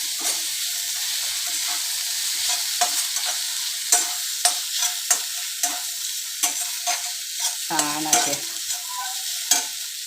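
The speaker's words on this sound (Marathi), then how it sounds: "असे सुट्टे सुट्टे नूडल्स ह्याच्यामध्ये आपण हलवून घेऊयात" Jowar flour noodles being tossed and stirred in an oiled pan, with a continuous sizzle broken by repeated sharp scrapes and clinks of the spoon against the metal, close up and with no talk.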